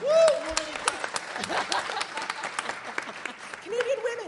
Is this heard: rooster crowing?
no